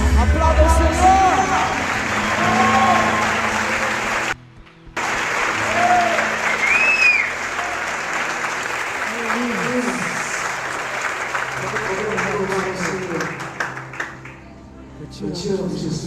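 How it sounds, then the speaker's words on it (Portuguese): A church congregation at a couples' talk applauds, long waves of clapping with some cheering and crowd chatter, a brief cut in the middle and music tones drifting under the noise. "Aplauda o Senhor."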